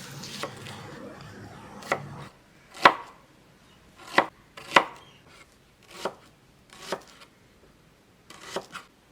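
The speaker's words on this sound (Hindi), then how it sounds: "सबसे पहले हमने प्याज जो हैं उनको काट लेना है।" Onions are chopped with a knife on a cutting board in a home kitchen, a series of irregularly spaced, crisp thuds and knocks that sound close and fairly soft.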